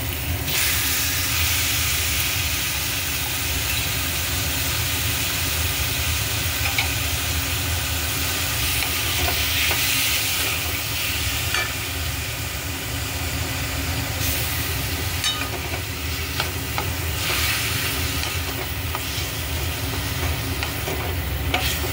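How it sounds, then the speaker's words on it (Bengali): Chicken pieces sizzling steadily in a pan for sweet corn soup, stirred now and then, a constant close frying hiss with faint scraping and no talk. "এর মধ্যে আমি এবার চিকেনগুলো দিয়ে দেবো।"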